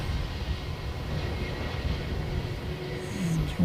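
A Jetstar airliner arriving from Cairns produces a steady low rumbling roar at moderate distance, continuous and even, with no speech over it.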